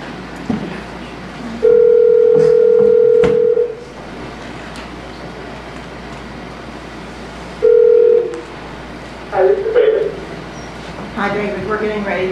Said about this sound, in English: Let's call Mr. Richardson on the phone.